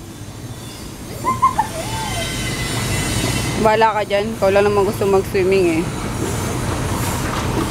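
An MRT train rumbles and squeals along the tracks near a hotel, a steady rail noise with pitched wheel squeals in the middle while people talk over it.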